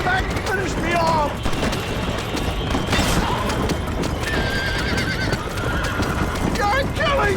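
A horse neighs and whinnies again and again over clattering hooves in the Western video game Red Dead Redemption, while gunfire and someone shouting fill the scene behind it.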